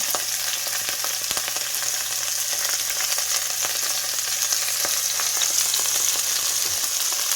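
Green onion and garlic sizzle in a pan, a continuous crackling fry with small pops scattered throughout, steady and fairly close, with no voices.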